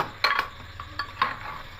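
Rice and lentils with their water being stirred in a pressure cooker for egg masoor dal khichuri, a few close scraping clinks of a spoon against the metal pot, spaced irregularly over a quiet background.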